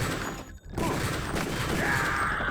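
Flamethrower fire in the video game Deus Ex, a dense continuous roaring rush that fills the clip, briefly dropping out for a moment before surging back loud and steady.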